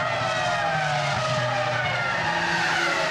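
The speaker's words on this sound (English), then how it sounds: "Yeah, it's Heidfeld with a broken exhaust." A 2003 Formula 1 car with a broken exhaust at the A1-Ring during the Austrian Grand Prix gives a loud, continuous high-pitched engine scream that holds steady and close throughout.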